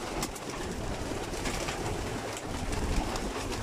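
Pigeons coo inside a pigeon loft, a steady busy bed of bird sounds with rustling and scattered sharper chirps, fairly loud and continuous.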